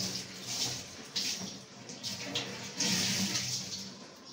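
Water running from a tap to soak a gamcha towel, a continuous splashing flow with uneven surges, fairly close and moderately quiet.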